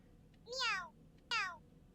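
Two distinct cat meows, the first longer and the second shorter, clear and close against quiet background.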